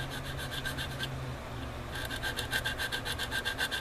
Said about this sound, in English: I'm just going to do that with the old sanding stick